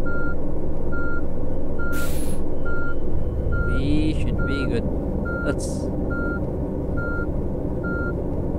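A tour bus in Tourist Bus Simulator reverses, its steady evenly spaced beeps repeating throughout over a low engine rumble, with someone briefly talking.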